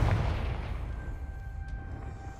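A Confringo blasting spell from the Hogwarts Legacy video game goes off in a single loud, booming explosion that rumbles at the start and then decays into a lingering low roar with a faint steady tone.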